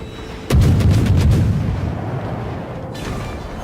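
A naval gun barrage in World of Warships opens with a sudden heavy cannon boom, then a rolling, rumbling decay and a smaller later report, loud and close with no voices.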